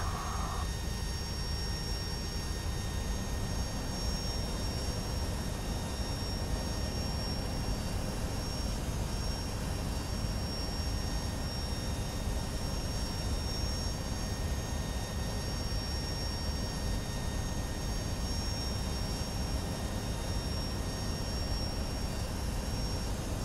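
Boeing 757-300 engines spooling up at the gate in X-Plane 12, a steady broadband jet roar with a faint high whine running continuously throughout, loud and unbroken with no talk.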